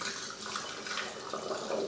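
Homemade ancestor water is poured through a funnel and sieve into a bottle, making a continuous trickling, splashing flow of liquid that runs steadily without a break.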